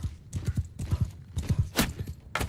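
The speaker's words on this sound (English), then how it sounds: "Looks like their horsemen are charging in." Horses galloping in a cavalry charge in the medieval battle game Mount and Blade II: Bannerlord, with close, rapid rhythmic hoofbeats thudding in quick clusters and a few sharp whooshes over them, no talking.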